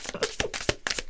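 Tarot cards shuffled by hand in a handful of quick, crisp bursts, each a short papery riffle close by, with no talking.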